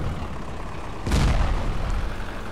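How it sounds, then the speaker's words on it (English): A tank cannon fires in the Ravenfield game, a single loud deep boom that starts abruptly at mid-clip and rolls on to the end over steady battlefield background noise. "I'm in a tank, you know. A big boom boom."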